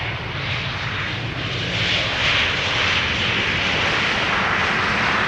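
An airliner's engines roar steadily on approach to land at Amsterdam Schiphol Airport, a loud, sustained broadband drone that swells slightly and holds for several seconds.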